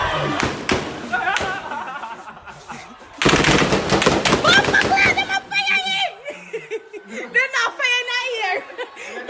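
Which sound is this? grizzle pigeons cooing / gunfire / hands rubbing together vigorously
gunfire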